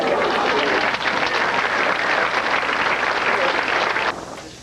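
Audience at a 1985 high school graduation ceremony applauds after a speech, a dense sustained clapping that fills the room and then drops away abruptly near the end.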